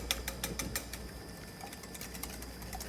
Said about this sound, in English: I'm just going to whisk the eggs together.